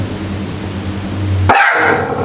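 A dog gives a single sharp, loud bark partway through, standing out abruptly after a low steady background hum.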